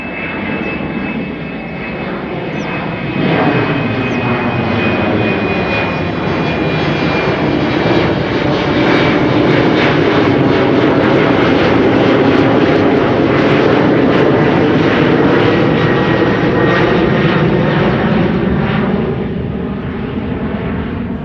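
A KLM Embraer jet airliner at Amsterdam Schiphol roars steadily nearby for about twenty seconds, a broad engine rumble with a thin turbine whine that swells and holds, with no talking.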